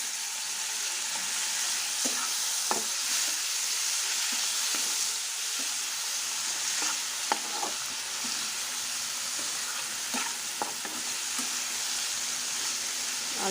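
Shrimp dropped into hot oil in a pan for a home-style fish dish, sizzling and frying steadily throughout with occasional sharper crackles and pops.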